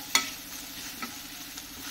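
Onion sautéing in oil gives a soft continuous sizzle with a sharp scrape of stirring at the start and a couple of lighter stirring touches after.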